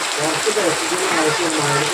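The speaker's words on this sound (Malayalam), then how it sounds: "സൂര്യ നനയാൻ നിൽക്കണേ ഇങ്ങോട്ട് വാ" Steady rain patters across the whole clip, a dense hiss with voices talking faintly underneath.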